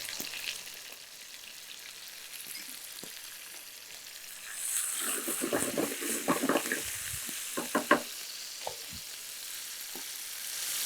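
Fennel seeds, curry leaves and green chilli crackle in hot oil for a chicken pakoda varuval, a faint hiss that swells midway into bursts of spattering pops and stirring scrapes, close and alone.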